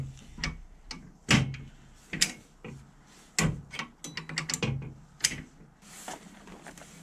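The ratchet wheel and pawl on a wooden Da Vinci catapult click while it is primed, giving a series of sharp, irregular wooden ticks and clacks at close range with short gaps between them.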